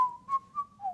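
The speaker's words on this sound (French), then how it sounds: "On va terminer sur cette note sifflée." A person whistles a short tune of four clear, close notes that glide slightly in pitch, with no talking.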